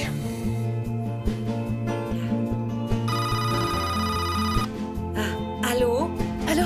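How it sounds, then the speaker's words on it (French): A telephone bell rings through a film soundtrack, with music and other sound layered over and around it at steady loudness. "j'entends le téléphone sonner"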